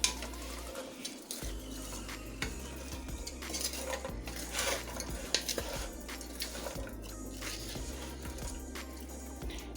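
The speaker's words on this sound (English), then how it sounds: "after you get all your vegetables into the pot, go ahead and give it a nice stir." Vegetables being stirred in a soup pot, with a spoon scraping and clinking against the metal and soft wet sloshing of liquid. The sounds come in irregular bursts, close and fairly quiet, with no talking.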